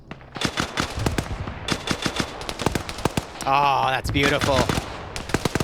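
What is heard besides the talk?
gunfire from a video game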